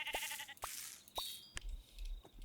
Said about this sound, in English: there you get a little lamb